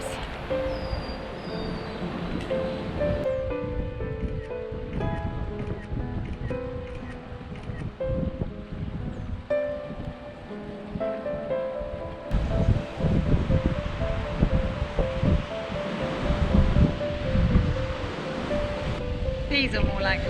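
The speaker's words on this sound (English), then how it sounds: "These are more like the waves that were coming in when we were trying to go out." Ocean waves surge at a marina entrance beside a breakwater wall, a rolling, rushing wash that swells and recedes over twenty seconds, with voices and other tonal background sounds mixed in.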